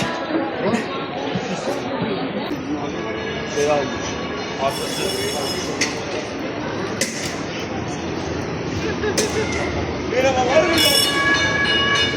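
A tram rumbles along a street in Istanbul, Taksim area, with rail clatter and occasional squealing wheels, while people talk nearby over the busy outdoor noise.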